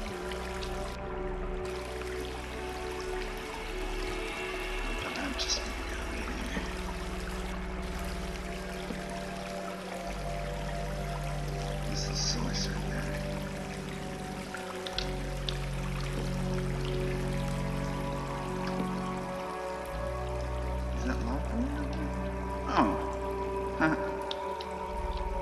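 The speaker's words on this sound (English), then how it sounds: "I don't think things are gonna climb out of there with this water gushing down." Water gushing and trickling down in the Minecraft video game, a steady pouring flow heard throughout at moderate level over faint game ambience.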